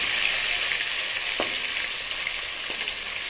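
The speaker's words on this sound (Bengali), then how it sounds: "মাছটা এক পিঠ ভাজা হয়ে গেছে" River fish frying in a pan of hot oil, a steady loud sizzle throughout, with two brief scraping knocks as the soft fish is turned with a spatula.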